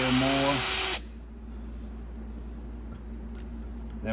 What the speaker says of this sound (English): Drill that out to 78.